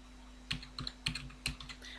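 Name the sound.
typing a password on a computer keyboard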